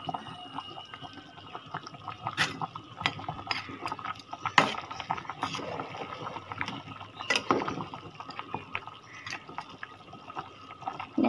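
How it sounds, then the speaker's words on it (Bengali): A spoon stirs a thick curry of bone-in meat and potatoes in a pot, giving soft wet scraping and knocking sounds in an irregular rhythm at close range, with no talking. "হাড্ডি আছে তো ওই জন্য নাড়তে কষ্ট হচ্ছে।"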